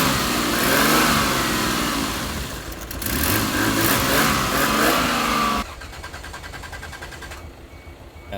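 Toyota Supra Turbo engine revving hard and close, rising and falling in a loud roar before dropping to a rougher, quieter idle near the end.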